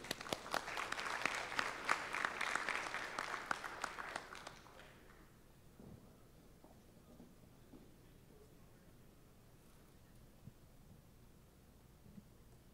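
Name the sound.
audience applause welcoming a lecture speaker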